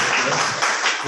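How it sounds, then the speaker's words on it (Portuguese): Brief, broad applause from a lecture audience on administrative law, filling the moment with a dense wash of clapping. "palmas para essa pergunta."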